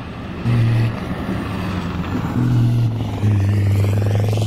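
A motorcycle at the Dakar rally, revving and smoking, gives low, loud, close engine bursts that rise in three separate surges over a constant rumble, with no talk.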